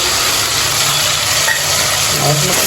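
Onions and fenugreek leaves fry in a pan for homemade green chicken biryani. A loud, close, continuous hiss of oil runs without a break, and no one speaks.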